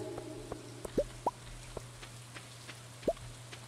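Light rain in the farming video game Stardew Valley, quiet and sparse, with a few distinct plopping drops at uneven intervals over a faint steady hum.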